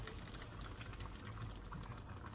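Water pouring into a pot of thick, stirred spaghetti sauce during home cooking, a continuous close splashing and bubbling rush of liquid with no talking.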